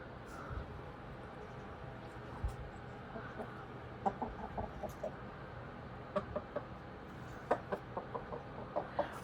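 A rooster clucks in short, repeated bursts during a scuffle with a ferret, the calls coming in quick clusters over a busy, noisy background.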